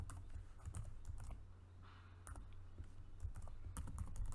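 Rapid irregular keystrokes on a computer keyboard while entering Python dictionary code, steady close clatter with short pauses over a low hum, no voices.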